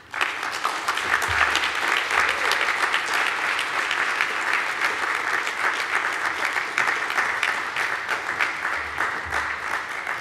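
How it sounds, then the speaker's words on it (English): An audience breaks into sustained, loud applause for a panel on Southern California water scarcity, steady dense clapping filling the room for about ten seconds before tapering slightly. "another round of applause for our excellent panel"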